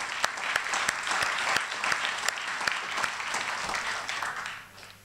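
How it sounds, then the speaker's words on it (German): Audience applause at a web meetup for the previous speakers, brisk clapping with a few sharp individual claps standing out, dying away at the end. "Also nochmal vielleicht einen kleinen Applaus für meine Vorredner."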